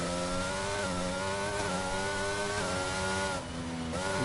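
A race car in a sim racing game brakes hard into turn 11, its loud, steady engine note dropping through downshifts with a brief dip near the end, continuous and close with no talking.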